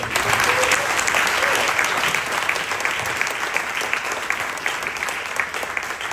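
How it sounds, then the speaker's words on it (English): An audience breaks into a big round of applause, with steady, dense clapping filling the whole stretch at an even, fairly loud level and no talking on top. "Big round of applause."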